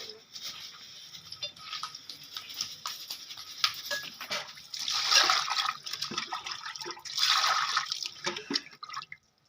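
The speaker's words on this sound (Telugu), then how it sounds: "ఇప్పుడు అవి అయితే శుభ్రంగా కడగాలి, లోపల ఏమైనా ఉంటే తీసేయాలి" Small koramenu fish are rinsed and cleaned in water, with close splashing, dripping and sloshing that comes in uneven handfuls and swells into two louder washing bursts.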